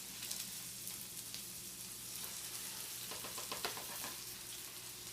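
Bacon frying in a pan during okonomiyaki preparation, a steady close sizzle with soft crackling pops, heard alone without talk.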